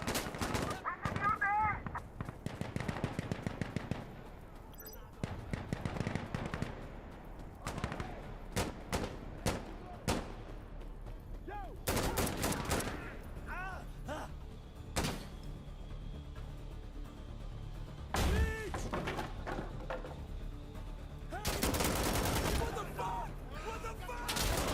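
Gunfire in the video game Insurgency: Sandstorm, with repeated bursts of automatic and single shots, loud and close, in dense clusters separated by short pauses, while someone talks intermittently over the firing.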